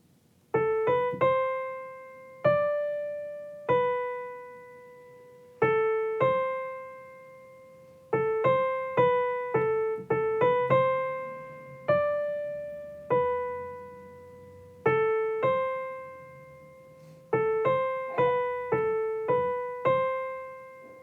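Solo piano plays the verse of a song, starting on A, with a steady run of clear struck notes and chords, each ringing out and decaying, close and moderately loud with no voices.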